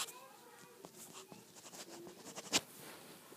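A pen scratches across paper, drawing a graph, in faint, close, intermittent strokes that end with one sharper tap.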